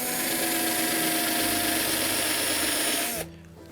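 A power drill runs steadily as it bores a countersink into wood for a child's wooden chair. The loud, continuous whine holds for about three seconds and then cuts off abruptly, leaving a quiet room.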